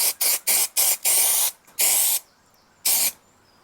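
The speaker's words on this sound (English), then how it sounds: "I'm using spray contact adhesive." Contact adhesive sprayed from a can in a series of close, loud hissing bursts, several short quick ones and then longer blasts separated by brief quiet gaps.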